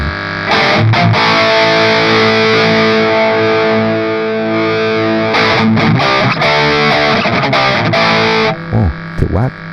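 A heavily distorted electric guitar through a Valeton Coral Amp digital amplifier pedal plays loud, sustained chords and choppy riffs, with brief pauses and muted stabs between phrases.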